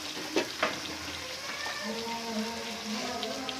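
Chicken karahi meat frying in a pan, a steady close sizzle with a few sharp spatter pops near the start and soft stirring scrapes throughout, no talking.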